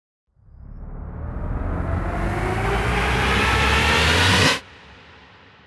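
A noisy synth riser with a glide between two notes sweeps steadily upward in brightness and pitch for about four seconds, then cuts off abruptly, leaving a faint tail.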